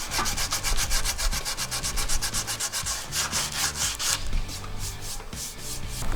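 Sandpaper works over an Osage orange self bow, a close, rapid rhythmic rasping of steady back-and-forth strokes that continues without a break.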